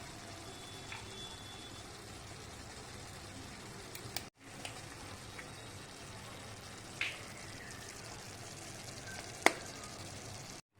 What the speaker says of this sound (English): The next step is to add 5 eggs that we are going to break and place it into the pan.